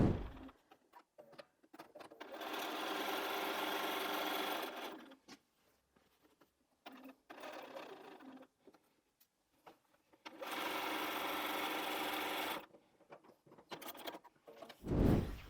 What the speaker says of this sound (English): So let's take those to the machine and sew.